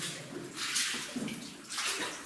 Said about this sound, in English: See the water just rolling down off of there.